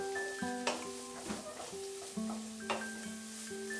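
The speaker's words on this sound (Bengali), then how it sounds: "এবারে এটাকে আমি ফ্রাই করব মিডিয়াম আঁচে, যতক্ষণ না বিটটা সফট হয়ে যাচ্ছে।" Chopped beetroot sizzles in a pan over medium heat with occasional stirring scrapes. The frying stays soft and steady beneath louder background music.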